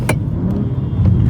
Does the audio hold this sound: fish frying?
no